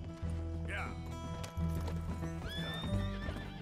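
A horse neighs loudly and close in the Western game Red Dead Redemption, a short rising whinny near the start, followed by clip-clopping hooves and another snorting call, all over a low musical bed.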